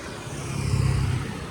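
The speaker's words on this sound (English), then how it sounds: "the traffic is atrocious. So much of it. Really noisy," Busy city traffic in Hue, Vietnam: a steady low rumble of engines from cars and motorbikes, swelling slightly mid-way as vehicles pass nearby, with no talking.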